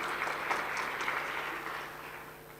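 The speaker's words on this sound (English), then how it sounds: "Give her a clap, guys." Audience applause at a national family planning learning conference: steady, dense clapping from a hall full of people that holds even throughout, then slowly thins and fades toward the end.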